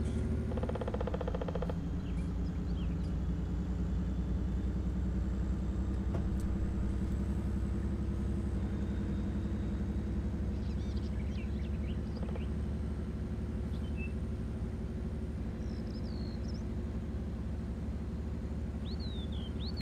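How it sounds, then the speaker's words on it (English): A truck engine in Farming Simulator 19 drones at a steady low pitch while driving on the No Mans Land map, a constant close rumble with no talking. "Come on, truck, can't you go any faster than 60 miles an hour?"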